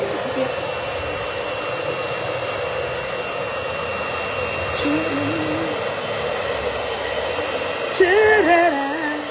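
Hair dryer blowing with a steady, even whoosh throughout, close and fairly loud, with brief snatches of a voice singing faintly over it near the end.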